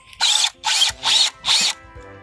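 A power drill spins a canvas for spin art, whirring in four loud, close bursts of about half a second each with brief pauses between them.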